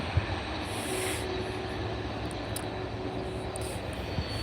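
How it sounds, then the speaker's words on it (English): A Delta jet airliner from JFK rolls along the runway at Edinburgh Airport, giving a steady, loud, broadband engine roar with a faint whine that stays fairly constant throughout. "Here's the Delta flight from JFK,"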